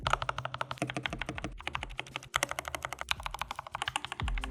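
Rapid typing on a modded budget mechanical keyboard, close and crisp, with dampened thocky keystrokes in quick bursts and a few heavier spacebar presses, the spacebar muffled by masking tape under its keycap.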